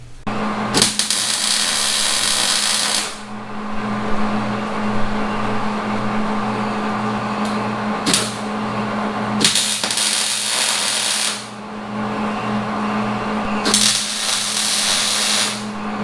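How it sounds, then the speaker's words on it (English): Tack welding joins cut metal pieces in a shop during a Jeep XJ Hemi swap, with loud steady hissing, buzzing bursts lasting several seconds each, separated by brief pauses, over a low electrical hum. "now I'm going to go ahead and tack some of these together"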